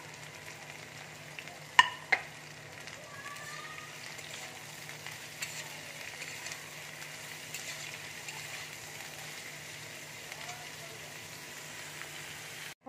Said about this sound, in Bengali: আলু, পটল আর পেঁয়াজ একসাথে দিয়ে দিচ্ছি, দিয়ে একসাথে ভেজে নেব